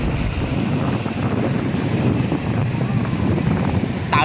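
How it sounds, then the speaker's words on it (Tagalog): Strong wind buffets the microphone at a bay, a steady loud roar of gusts throughout with faint surf-like wash underneath. "Wow, it's so windy here."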